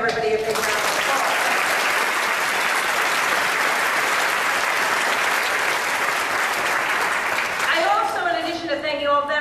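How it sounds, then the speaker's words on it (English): Loud, dense applause from a crowd at a Pride event, sustained for several seconds before it tapers off as a voice begins speaking. "so let's give everybody a big round of applause."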